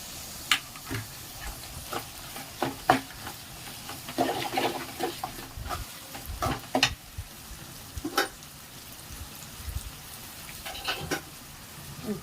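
Ginger garlic paste sautés in a pan for prawn curry, giving a soft, even sizzle broken by irregular spatula taps and scrapes over twelve seconds, close and fairly quiet, with no talking.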